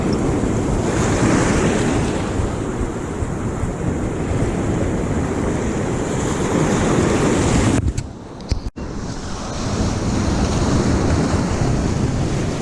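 Sea waves break and foam into white water along a rocky shoreline, a loud continuous rushing surf with heavy wind buffeting the microphone and a brief dropout partway through.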